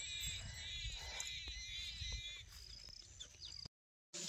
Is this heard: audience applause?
no